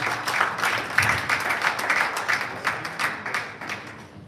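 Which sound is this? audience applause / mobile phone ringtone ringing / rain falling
audience applause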